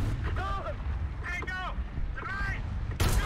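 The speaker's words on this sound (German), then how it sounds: "Schmeiß ihm mal Artillerie drauf." Artillery called onto an M103 tank in War Thunder, played in a Leopard 1, rumbles low beneath voices, with a sharp, loud blast at the end.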